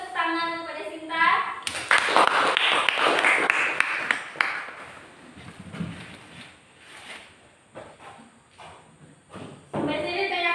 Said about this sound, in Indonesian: Beri tepuk tangan kepada Sinta.